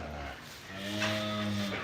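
Cattle in a calving pen give a single drawn-out, low moo, fairly quiet and somewhat distant, rising slightly in the middle before fading.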